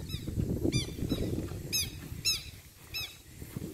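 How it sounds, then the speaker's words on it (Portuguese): A southern lapwing (quero-quero) gives a series of sharp, shrill calls, about six in quick succession, over a low outdoor rumble in open countryside. "Esse é o passarinho quero-quero."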